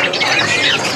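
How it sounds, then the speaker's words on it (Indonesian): Many ciblek birds (prinia) kept in stock at a bird market call together in a loud, shrill chorus of squawks and squeals, continuous and close throughout. "Ada juga stok dari burung ciblek"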